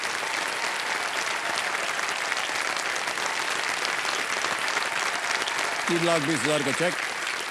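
Studio audience applause on the KBC game show, a steady dense clapping that fills the whole stretch while a host speaks over it.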